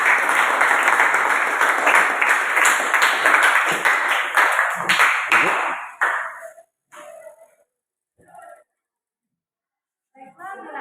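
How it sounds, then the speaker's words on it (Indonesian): A classroom of students claps together in a geography lesson: dense, fairly close applause for about six seconds, then breaking into a few scattered final claps and a trailing burst. "Tepuk tangan."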